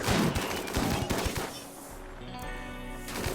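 Rapid bursts of turret gunfire from slug turrets in the colony game RimWorld, dense clattering volleys in the first half, then a quieter lull with a low hum before shots pick up again at the end.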